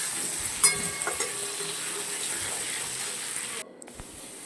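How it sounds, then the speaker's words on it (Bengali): Steady sizzling of potatoes frying, with a few scraping stirs early on before the sizzle drops away near the end. "এবার এই আলুটা একটু নাড়াচাড়া করে দেবো, যাতে এটা একটু কড়া কড়া লাল লাল ভাজা হবে।"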